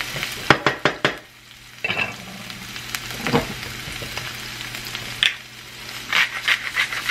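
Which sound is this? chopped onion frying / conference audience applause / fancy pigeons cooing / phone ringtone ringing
chopped onion frying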